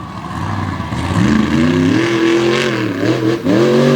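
A Ford monster truck sponsored by Packer Fasteners revs its big engine at an All Star Championship event, a loud, close, rising and falling roar that climbs in pitch with a short dip near the end.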